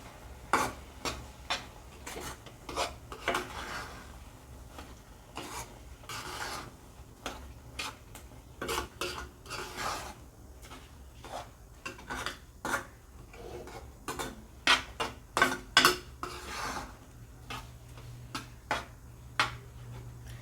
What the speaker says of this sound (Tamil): இந்த கரண்டி வந்து எனக்கு வந்து நல்லா கிண்டுறதுக்கு கொஞ்சம் வசதியாக இருக்குது சத்தம் கேட்குது